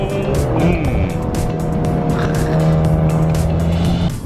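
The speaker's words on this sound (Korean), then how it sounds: "이게 2리터 4기통으로 낼 수 있는 배기음이 맞나 싶을 정도로" A Maserati Ghibli GT hybrid with a 2-litre four-cylinder engine revs loudly and steadily up close past 6,000 RPM, with a brief shift in pitch on the upshift, the exhaust note droning throughout.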